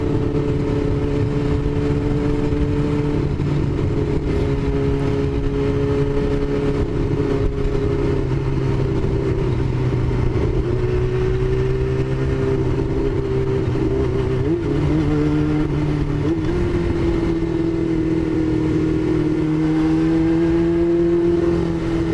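Motorcycle riding through traffic, a steady close engine drone with shifting pitch as it speeds up and eases off, accompanied by constant road and wind rush.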